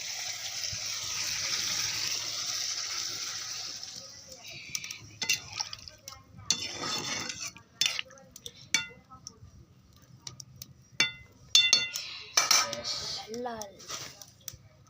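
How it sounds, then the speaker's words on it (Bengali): Water pours into a pan of curry seasoned with ginger and garlic: a steady rushing stream for several seconds, then scattered clinks, drips and stirring sounds close by. "এবার আমি জল ঢেলে দেবো।"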